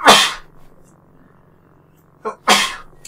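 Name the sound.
sneeze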